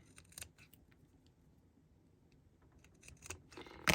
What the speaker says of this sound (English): I'll take this, where my orange scissors go, and I'll cut it evenly